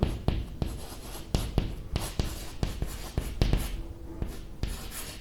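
Pen or chalk marks out a geometry proof in sharp, irregular taps and scratchy strokes, close and distinct, with short pauses between bursts and no speech.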